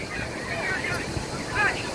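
Rough surf rolls in on Puri beach in wind, a broad washing roar with gusty noise rising near the end.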